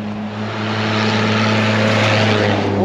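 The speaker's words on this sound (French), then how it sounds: "Regardez le beau Mercedes qui arrive." A Mercedes truck approaches with a steady, rising engine drone that builds in loudness over a few seconds, heard close by and alone without talk.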